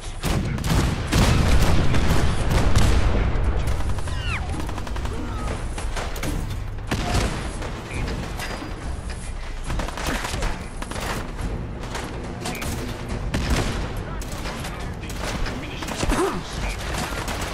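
Dense, continuous gunfire and cannon blasts in the Fallout 4 video game, loud and sustained with rapid overlapping bursts, thuds and mechanical clanks, and no clear speech.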